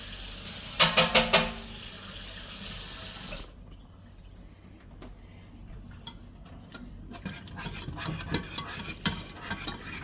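Tap water runs into a sink as something is rinsed off during strawberry jam making, a close rushing stream that stops after a few seconds, leaving quieter clinks and small handling noises.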